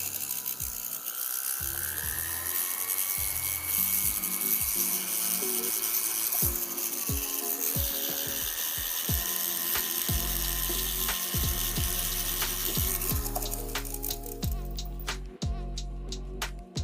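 A rotary tool pre-polishes jewelry to remove scratches, a fine high buzzing whir that runs continuously up close with small shifts in pitch and scattered light clicks and taps of handling.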